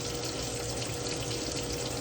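Steady broadband rush of water running from a kitchen tap, continuous and fairly close, with no talking over it.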